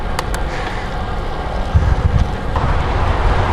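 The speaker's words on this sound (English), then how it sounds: "Southwest wind, maybe 10 miles an hour or so" Steady wind roars across the microphone on a road bike ride into a light southwest headwind, a loud, continuous rushing broken only by faint gusty swells.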